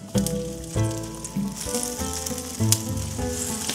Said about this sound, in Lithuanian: Nu ir dapilkim vandens.